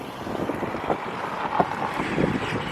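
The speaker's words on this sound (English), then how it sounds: "It's a little bit windy today," Gusty outdoor wind buffets the microphone near a construction site in Bodrum, a steady low rumble with a few stronger puffs, no talking.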